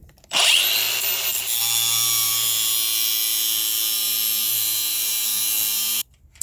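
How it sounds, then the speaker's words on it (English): An angle grinder spins up and grinds steadily against the metal of a Jeep Wrangler TJ control arm during an axle swap, a loud, close, sustained whine lasting about six seconds before cutting off abruptly. "So good old grinder will take it away."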